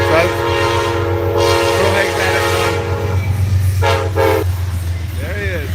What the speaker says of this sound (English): Oh, that's an Amtrak.